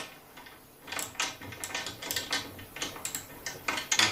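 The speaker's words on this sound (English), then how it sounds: "And now you can tighten these up. So a 14mm spanner" A 14mm spanner ratchets in quick clicking bursts as it tightens the bolts of a Dearden V12 ceiling direct mount. The clicks are close and fairly loud, with no talk.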